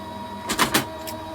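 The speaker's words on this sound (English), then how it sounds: "So we're just going to go in and emboss that." A Gemini die-cutting machine embosses through an embossing folder with a short mechanical whir, rising in two quick pulses and then a brief final burst over a low background hum.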